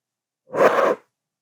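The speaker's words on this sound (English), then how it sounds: "when you inhale and really fill from the bottom of your lungs, you're going to hear a whoosh of sound" A single short, breathy whoosh of air from a deep inhale filling the lungs from the bottom, isolated in silence.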